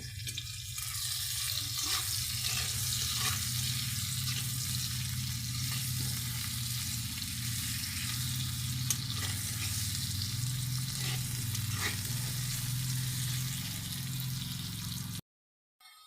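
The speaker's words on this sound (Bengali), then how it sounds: "লবণ হলুদ দিয়ে আলুগুলো আমি লাল করে ভেজে নেব" Potato pieces frying in hot oil with turmeric and salt for a Bengali rui fish curry with cauliflower, a steady close sizzle running for most of the clip before cutting off abruptly near the end.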